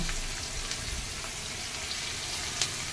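Sliced onions sizzle in hot oil in a pan while cooking gongura pulusu curry, a steady, even frying hiss with faint pops, moderately quiet and without talk.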